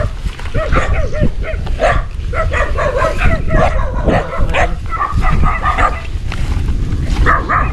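Several dogs bark and yip repeatedly in a noisy, overlapping chorus, loud and close, with some whimpering mixed in throughout.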